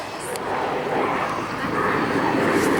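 An F-86 Sabre jet flying a figure-eight display at the RAF Cosford airshow gives a steady, broad jet roar, moderately loud and unbroken, with some wind buffeting.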